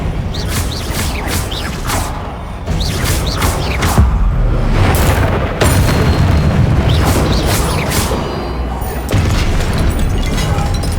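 Spell-casting in Hogwarts Legacy, the disarming spell unleashing a run of heavy booming bursts and crackling magical impacts over a dense, rumbling game soundscape, loud and continuous with sharp hits every second or two.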